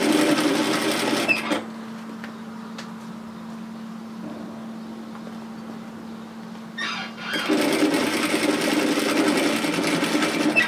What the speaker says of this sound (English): And I'm just going to sew this at 6mm, quarter of an inch.